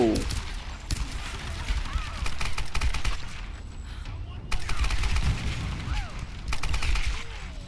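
Machine gun fire in the Tomb Raider video game: repeated bursts of rapid shots, moderately distant and fairly quiet, with a player's voice talking over the combat.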